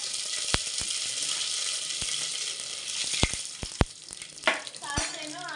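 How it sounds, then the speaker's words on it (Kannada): Mustard seeds and curry leaves hit hot oil for a sambar tempering, giving a continuous sizzle broken by sharp, scattered pops and crackles up close. "ಸಾಸಿವೆನು, ಆಮೇಲೆ ಮಾಮೂಲಿ ಕರಿಬೇವು ಹಾಕೊಳ್ಳೋದು"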